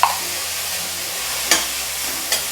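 Chopped onion with salt fries for a clam sukka, giving a steady hiss of sizzling oil close by, marked by a couple of brief spoon knocks.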